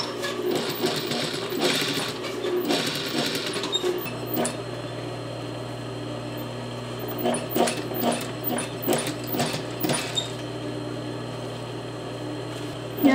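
A sewing machine topstitches a skirt with a slit, running in a steady mechanical whir with short bursts and pauses as the fabric is fed through. The motor hum stays close and moderately loud, with no talking.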